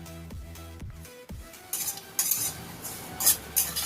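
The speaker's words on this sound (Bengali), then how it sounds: "সুজিটা কোড়ার মধ্যে দিয়ে হালকা নাড়াচাড়া করে ভেজে নেব" Semolina being stirred and lightly roasted in a kadai, with scraping and soft clinks of a spoon against the pan, a few sharper knocks, and a faint dry sizzle underneath, close and moderately quiet.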